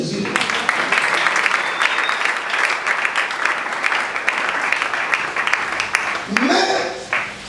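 A church congregation at a plenary gathering in Kinshasa breaks into sustained, loud applause and cheering, a dense wash of clapping that holds steady before a voice rises near the end.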